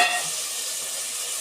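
Potatoes dropping into a hot tomato mixture for pav bhaji, giving a steady loud sizzle and hiss of frying that fills the short moment without talk.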